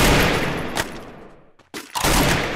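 Gunfire from the video game Free Fire, played with a Titan Scar rifle, comes in dense loud bursts at the start and end with a short quieter gap between.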